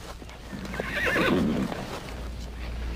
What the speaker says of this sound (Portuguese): Doutor Pina, troque os cavalos